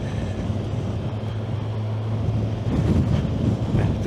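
A strong, cold wind buffets across an exposed headland, a steady low roar with gusty swells that grow stronger toward the end, close and loud against the microphone, with no talking.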